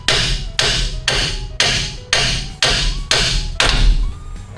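A hammer strikes a Ram 1500 upper ball joint during a front strut install. Eight loud, close metallic whacks land in a steady rhythm, each ringing briefly before the next.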